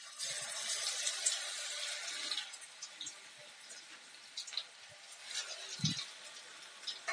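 Raw banana pieces go into hot oil, producing a bright hissing sizzle that is strongest at first, then settles into softer bubbling bursts, with one dull knock near the end.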